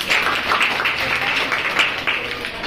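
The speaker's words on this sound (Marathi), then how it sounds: "परत एकदा जोरदार टाळ्या" A class of students claps steadily in a dense, even burst of applause lasting a few seconds during a school poster-painting lesson.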